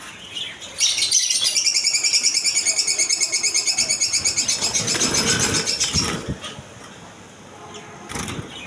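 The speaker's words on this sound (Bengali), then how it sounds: "অনেক সুন্দর পাইট কালারের মধ্যে বাজরিকা পাখি পেয়ে যাবেন আরও পেয়ে যাবেন জাবা পাখি ডিম সহ জাবা পেয়ে যাবেন" Budgerigars and java sparrows in a pet shop chirp in a dense, rapid, rhythmic chatter, loud and close, which fades out partway before a brief burst returns near the end.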